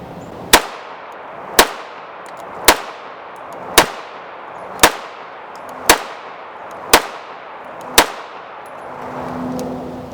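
A Rock Island Armory RIA 5.0 pistol fires 124 grain Arms Corps rounds, eight sharp loud shots at a steady pace about a second apart, each with a short ringing tail, outdoors and close.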